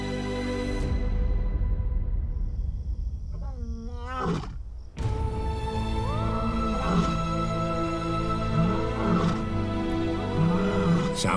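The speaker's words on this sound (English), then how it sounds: "I began to hear roars from the other side of the river" Wild lions roar from across a river in their territory, a series of deep, drawn-out, repeated roars that swell and fade at a distance, loud and layered over one another.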